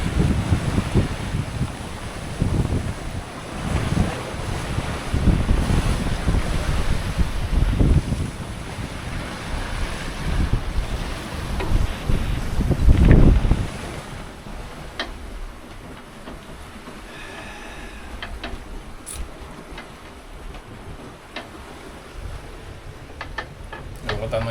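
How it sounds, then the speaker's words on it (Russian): Big open-ocean waves of five to seven metres surge and hiss around a solo sailboat, with heavy wind buffeting the microphone in loud, uneven gusts. The roar eases into quieter water rush and wind later on. "Огромные такие волны, метров 5-7."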